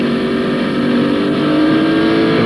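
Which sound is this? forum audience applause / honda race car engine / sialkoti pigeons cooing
honda race car engine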